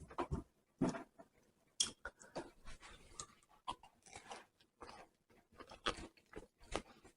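Crisp crunching bites and chewing of treacle farl, an Irish soda bread spread with butter, come in short irregular bursts, close and fairly quiet, with no talking.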